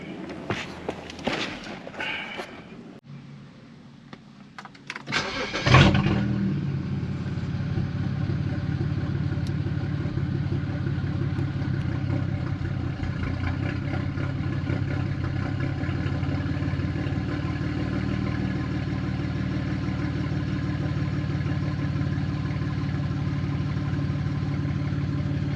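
A BMW 335i engine cranks and catches on its first startup after walnut blasting, then settles into a steady, even idle that runs loud and close for about twenty seconds, with a few clicks and footsteps before it fires.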